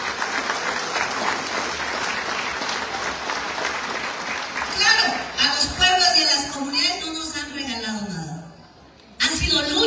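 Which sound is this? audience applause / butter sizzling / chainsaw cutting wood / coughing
audience applause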